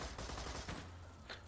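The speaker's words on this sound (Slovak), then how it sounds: "Ale aj tak tu po mne furt strieľajú" Gunfire crackles in the video game Borderlands 2 as a rapid burst of several close shots over about a second, with one sharper report near the end.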